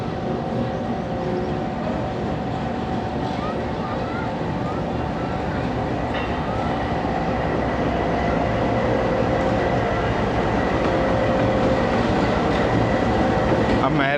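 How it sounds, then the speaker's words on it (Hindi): American General Electric 2000 hp diesel locomotive pulling a train through countryside: a steady, loud rumble of engine and rolling wagons with rail clatter, heard from on board, and it gradually builds over about fourteen seconds. "अमेरिकन जनरल इलेक्ट्रिक लोकोमोटिव है ये, 2000 हॉर्स पावर का डीज़ल लोकोमोटिव।"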